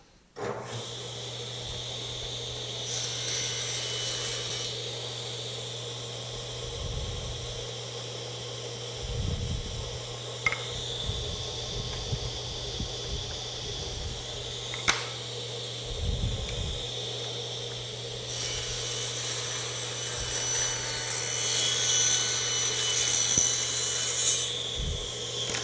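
A saw cuts into wood for a sculpture in steady back-and-forth strokes, a raspy rubbing that comes in bursts over about twenty seconds, close and moderately loud.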